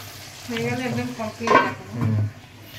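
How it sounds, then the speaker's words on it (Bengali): A paratha fries in a pan with a soft continuous sizzle while a spatula stirs and scrapes in short bursts, close by, with a few faint metallic knocks. "এখানে পরোটা ভাজা হচ্ছে।"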